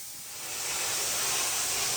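A steam cleaner blasts bathroom tile grout with a steady, loud hiss of pressurized steam, rising slightly at the start and then holding constant, close up with no talking.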